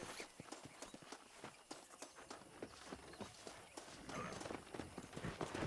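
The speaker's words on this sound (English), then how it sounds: "let's see if we can't wrangle some horses" Horse hooves clip-clop at a steady walking pace over a busy background in the video game Red Dead Redemption, with the clatter picking up toward the end.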